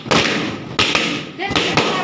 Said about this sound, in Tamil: பலூன் எல்லாம் வெடித்து இதை சுண்டுவில் அடித்து உடைக்கிற மாதிரி.